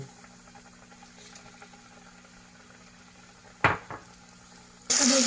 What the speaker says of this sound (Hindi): अभी ये स्लोली फ्राई हो रहा है